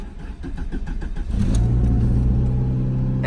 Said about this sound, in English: And it fires right up.